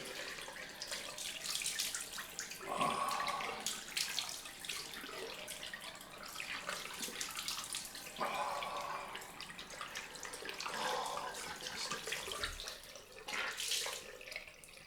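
Tap water running into a sink for a cold rinse after a shave, a steady soft splashing stream with occasional louder gushes as hands move under it, fairly quiet and close.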